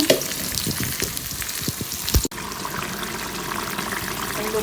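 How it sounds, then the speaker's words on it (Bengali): Potatoes fry in a pan in a home kitchen, a steady sizzle with scattered crackles and a sharp clank near the middle, fairly close and alone with no talk. "আলু ভাজব"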